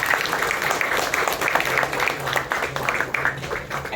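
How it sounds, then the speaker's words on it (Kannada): An audience at a Kannada film trailer launch event claps steadily throughout, a crowded patter of applause with some voices and background sound mixed in. "ಒಂದು ಚಪ್ಪಾಳೆ ಕೊಡಿ."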